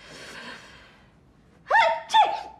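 A two-part sneeze in a Spanish-language South American soap opera scene: a breathy intake, then two sharp, loud bursts close together, with no talk over them.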